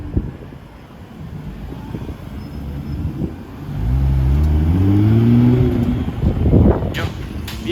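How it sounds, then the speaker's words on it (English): A Nissan GTR on a late-night downtown Miami street, its engine revving up in rising sweeps from a short distance, with street noise and wind around it. "Here we have a GTR"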